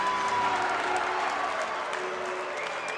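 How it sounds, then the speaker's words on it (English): A high school basketball student section at a Metamora vs Wheaton St. Francis boys supersectional cheers and claps loudly during a timeout, a dense, sustained roar of crowd noise. "Metamora's student section is fired up, jumping up and down, trying to keep that momentum through the timeout"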